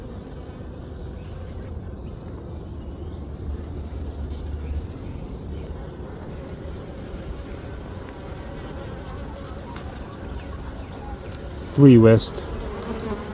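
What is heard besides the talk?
honey bees buzzing during beehive inspection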